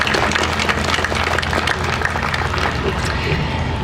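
An audience at an outdoor statue dedication ceremony at Northwestern Oklahoma State University in Enid applauds, with a dense, even patter of clapping all the way through at moderate loudness.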